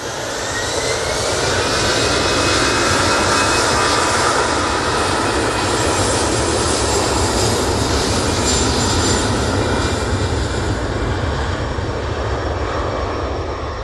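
A jet airliner in Starlines livery takes off from Manchester Airport bound for Frankfurt, its engines roaring loud and steady throughout with a broad, continuous rumble and a faint whine on top.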